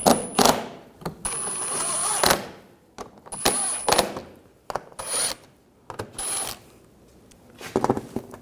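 A ratchet snugs bolts down on the water pump of a 2007-2013 BMW 328i 3.0L inline-six, with several short bursts of rapid metallic clicking separated by brief pauses, close to the microphone.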